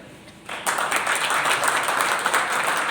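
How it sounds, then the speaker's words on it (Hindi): A seminar audience in Bulandshahr breaks into applause after brief quiet. The clapping starts abruptly and swells into a dense, lively round that carries on to the end. "प्लीज जोरदार ताली बजाएं।"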